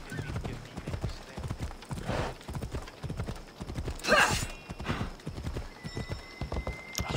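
Horse hooves clip-clop at a steady trot while riding in the video game Assassin's Creed Odyssey, a close, rhythmic patter that runs throughout, with a brief whinny near the middle and faint voices behind.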